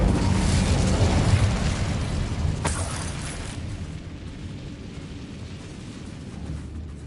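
The Incendio fire spell is cast in Hogwarts Legacy: a loud, rumbling burst of flame that roars strongly at first, flares with a sharp crackle midway, then thins into a long, fading whoosh.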